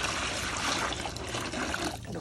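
Turmeric water pours and trickles steadily for pigeons kept under a deck, with a constant splashing wash and no talk heard.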